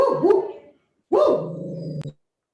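A dog gives two drawn-out, growly barks about a second apart, close and fairly loud, the second longer and ending in a short clipped yip.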